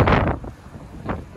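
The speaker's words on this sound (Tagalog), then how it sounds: "lakas ng hangin" Strong wind gusts buffet the microphone in a park of blooming sakura trees in Japan, with two loud, rumbling blasts close up and a quieter lull between them.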